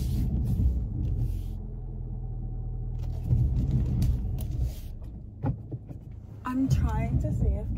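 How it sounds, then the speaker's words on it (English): A car idles with a low, steady engine rumble while it reverses during a parallel park. A voice speaks briefly near the end. "I haven't done a reverse parallel park in so long"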